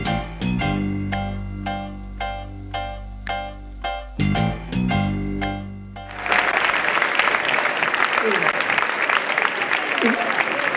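Applause from an audience at an awards ceremony breaks out midway, dense and sustained, after an opening stretch of rhythmic, tonal music.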